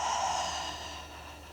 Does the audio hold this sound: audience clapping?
no